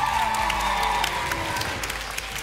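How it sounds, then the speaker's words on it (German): A studio audience at the Kiddy Contest 2003 children's singing show applauds a departing contestant, a steady, dense wash of clapping with a faint musical tone underneath for the first second. "Applaus für Nathanaele."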